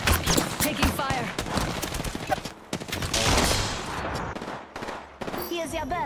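Heavy gunfire in the battle royale shooter Apex Legends, dense overlapping bursts and rapid shots that stay loud and nearly continuous, with game effects mixed in.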